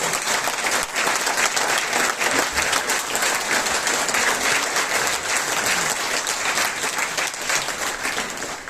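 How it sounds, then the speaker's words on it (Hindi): An audience at a public gathering applauds a speaker with steady, vigorous clapping, a dense wash of many hands that carries on loudly and evenly for several seconds with a faint crowd murmur beneath. "तो ताली बजाते रहिए देवेंद्र भलारा जी के लिए"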